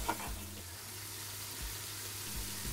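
Chyapa shutki, a dried fish, is cooked down in a pan over high heat with a faint, steady sizzle over a low background hum.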